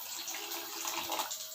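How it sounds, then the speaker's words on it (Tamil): Water poured into a pot of simmering tamarind curry (kuzhambu), a steady splashing, gurgling stream that runs close and fairly loud throughout. "இது கூட கொஞ்சமாக தண்ணி சேர்த்துக்கிறேன்."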